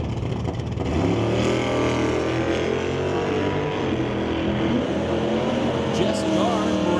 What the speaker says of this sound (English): Walter Johnson brings it up on the right-hand side with his 1972 Chevelle